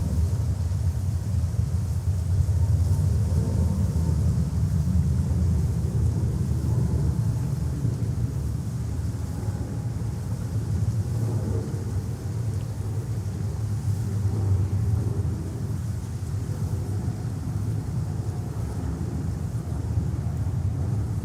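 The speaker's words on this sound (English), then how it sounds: "Virgin Atlantic 350 1000 coming in from London Heathrow." A Virgin Atlantic Airbus A350-1000 arrives from London Heathrow at JFK, a steady low rumbling roar of jet engines with wind buffeting, sustained and fairly loud throughout, no talking.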